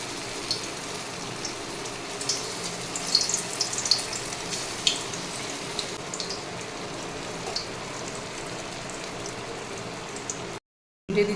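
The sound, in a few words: soybean kofta balls frying in hot oil in a wok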